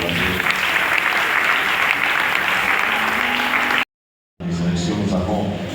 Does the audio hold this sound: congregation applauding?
yes